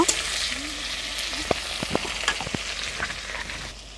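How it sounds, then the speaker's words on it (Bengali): Chopped tomatoes fry in a pan, giving a steady low sizzle punctuated by several crisp spatula taps and scrapes as they are stirred, close and clear. "নেড়ে ছেড়ে নেব টমেটোগুলো সুন্দর একটু ভেজে নেব"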